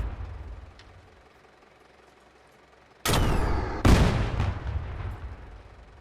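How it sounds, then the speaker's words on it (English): Heavy artillery in Drive Beyond Horizons booms out in two big, close blasts about a second apart, each with a ringing, decaying tail, following several seconds of quiet low rumble. "I'll switch to heavy artillery."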